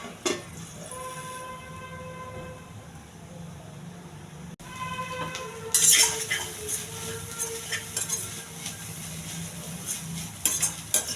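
Sprouts frying in a pan while a spoon stirs through them, giving soft scraping and clinking at an irregular pace, busier and louder in the second half, with a low steady hum underneath.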